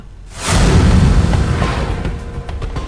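A loud bomb explosion booms suddenly, then rumbles and decays over the next two seconds with a lingering roar.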